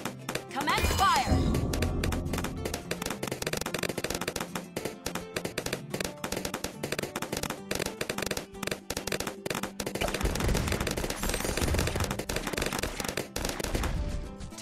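Military towers in the Bloons TD 6 video game open fire in rapid, continuous bursts of popping gunshots that stay dense and loud throughout, with a brief voice near the start.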